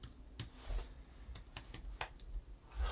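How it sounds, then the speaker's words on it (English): A password goes in on a computer keyboard as irregular clusters of sharp, close key clacks. The strikes are fairly loud and come in short bursts with brief pauses between them. "Oh, yep, I'm typing it wrong."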